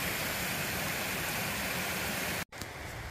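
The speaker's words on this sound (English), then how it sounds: "That water is really moving." Fast-moving stream water rushing along a hiking trail, a steady loud broadband roar that runs continuously and briefly cuts out near the end.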